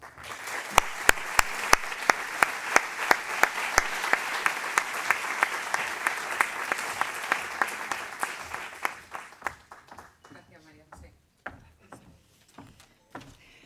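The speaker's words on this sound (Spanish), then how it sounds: "Le damos un aplauso" Congress audience in a Córdoba hall breaks into sustained applause, dense and steady for several seconds before thinning into scattered individual claps that trail off toward the end.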